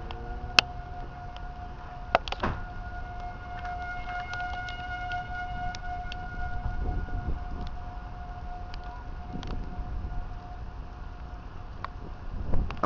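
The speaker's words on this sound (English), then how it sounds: "Listen to these tornado sirens" Distant tornado sirens wail with a steady sustained tone over a low rumble of wind, with a few sharp clicks and knocks nearby.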